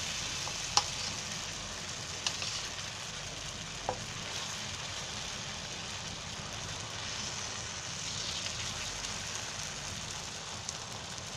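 A wheat pancake (khaprole) roasts in an oiled pan over low gas, giving a steady soft sizzle with a few faint clicks. No one speaks.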